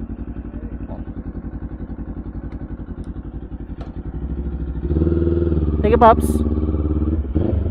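A Kawasaki Z500 idles and rides slowly into a multi-level parking garage, its engine pulsing steadily and growing louder as it enters. A rider speaks briefly over it.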